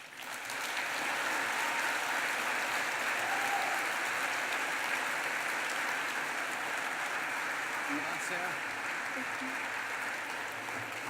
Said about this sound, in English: Once again, ladies and gentlemen, a big round of applause for Sarah.